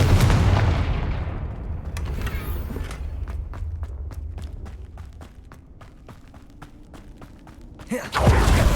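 A Confringo fire spell blasts in Hogwarts Legacy, a heavy boom at the start followed by a string of sharp cracks and footsteps, ending with another loud burst.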